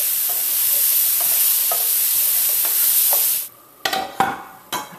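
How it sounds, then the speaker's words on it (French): Chopped onions frying in a pot for a slow-cooker beef and vegetable stew, a steady close sizzle with light scraping stirs, then quieter as the heat drops and a few clattering utensil knocks follow. "Les oignons commencent à être bien tombés, commencent à être ramollis, alors je considère que c'est prêt."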